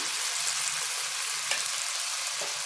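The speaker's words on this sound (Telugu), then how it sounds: "ఇవి కూడా కొద్దిసేపు ఈ టమోటా అన్నీ బాగా మగ్గనిద్దాము మంటను హైలోనే ఉంచి మగ్గనివ్వండి" Tomato pieces with chili powder, turmeric and salt cooking over high heat in a pan for a chickpea and brinjal curry, a soft steady sizzle with a couple of faint stirring scrapes.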